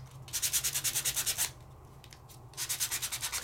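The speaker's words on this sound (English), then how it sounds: "My sanding gadget is going to hit all the high places of where I've embossed." Rapid rhythmic scraping strokes of a sanding tool rubbing embossed paper, two bursts of quick back-and-forth passes separated by a short pause.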